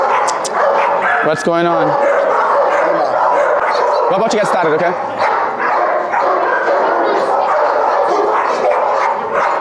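Many dogs at a dog training seminar in New Jersey bark, yip and whimper in a loud, busy room, with sharp close barks over constant chatter while a person talks throughout.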